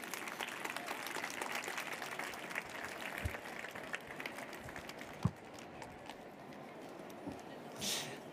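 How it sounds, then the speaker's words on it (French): An audience at a departmental reading-contest final applauds steadily as performers come on stage, a broad, continuous patter of clapping with a few sharper knocks and some murmured voices in the hall. "Et je vous demande de les applaudir,"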